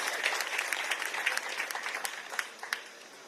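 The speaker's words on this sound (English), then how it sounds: "I think that deserves a round of applause." An audience claps steadily at a hospital solar energy commissioning ceremony in Sierra Leone, a dense, close round of applause that thins out and fades over about three seconds.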